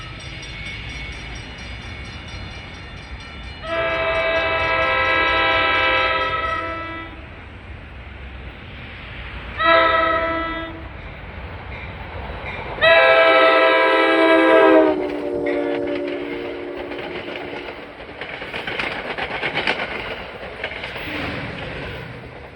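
A PL42AC locomotive on a Hoboken-bound train passes near Secaucus, New Jersey, sounding its loud horn in several long, harmonic blasts with short gaps, over a rumble of rolling wheels and track noise.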